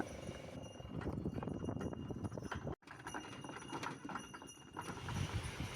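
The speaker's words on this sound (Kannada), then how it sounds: "ಈಗ ಎತ್ತುಗಳು ನಿಂದ್ರಲ್ಲಾಗ್ಯಾವ ನೋಡ್ರಿ ಆಟ ಪಗೋಲಾಗ್ಯಾವು ಓಡ್ ಹೊಂಟಾವ" Bullock cart hooves clop unevenly on a rough track with rattling and creaking, the sound cutting out for an instant partway through.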